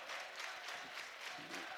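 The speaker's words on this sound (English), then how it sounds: "This Edwards County crowd getting into it here tonight" A home crowd at an Edwards County girls' high school sectional basketball game cheers and claps steadily, a broad wash of applause and voices filling the gym without a break and with no clear talk on top.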